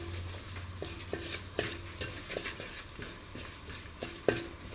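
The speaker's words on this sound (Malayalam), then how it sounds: "ഇനി ഇതിലേക്ക് നമുക്ക് മഞ്ഞൾപ്പൊടി ആഡ് ചെയ്യാം. മുളക് പൊടിയും കൂടെ ആഡ് ചെയ്യാം. നന്നായിട്ട് മൂപ്പിക്കുക എണ്ണയിൽ" Turmeric and chili powder frying in oil for a horse gram stir-fry, a faint, steady sizzle under repeated light stirring and scraping taps of a spoon against the pan.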